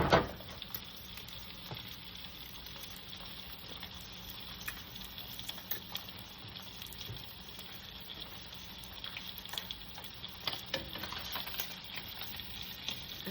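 Spam frying in a pan for a simple breakfast, a faint, steady sizzle that crackles on without a break, with occasional light scrapes or taps, and no talking.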